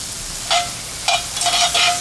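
Soy sauce hits a hot pan with softened butter and chopped garlic, giving a few short bursts of sizzle and stirring over a quiet background.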